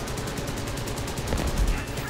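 Cannon and machine gun fire in a War Thunder aerial dogfight, with a P-38 fighter involved: dense, continuous rapid bursts of gunfire filling the whole moment, loud and unbroken.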